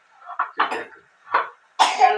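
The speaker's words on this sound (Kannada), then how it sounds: "ಕೆಮ್ಮು ಕಮ್ಮಿ ಆಗ್ತಾ ಇಲ್ಲ" A person coughs in a few separate close bursts with short gaps, the last one harsher and longer, amid a persistent cough that is not easing; no speech.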